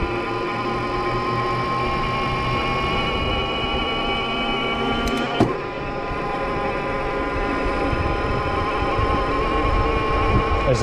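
QuietKat Jeep electric all-terrain bike with a mid-drive motor, heard as a steady whining electric drone with layered tonal hum, constant and close throughout, with one brief click near the middle.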